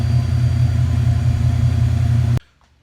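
Foxbody Mustang engine idling slightly high, a steady loud low rumble with a constant hum that cuts off abruptly near the end, leaving near silence.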